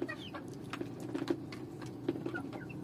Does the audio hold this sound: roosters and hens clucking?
yes